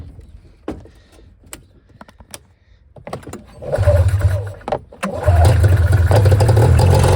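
A small engine is pull-started after a few sharp cord-pull clunks and rattles, then coughs into a rough, loud mid-pitched run in two bursts, close to the listener.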